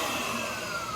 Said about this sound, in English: One last difference before we start the test is their motor noise